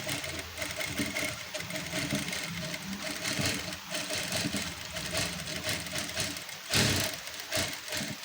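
Electric sewing machine running steadily while stitching lace trim, a continuous fast mechanical whir with a brief louder knock near the end, close and alone with no talking.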